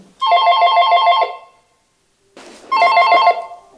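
A telephone rings in an abandoned spa hotel, two loud, close bursts of rapid bell trilling, each lasting over a second, separated by a brief silent pause.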